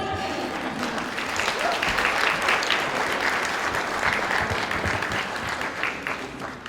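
Sustained audience applause for contestants at a cosplay competition on stage at an anime convention, a dense, steady wash of many hands clapping close and loud throughout, with faint voices mixed in.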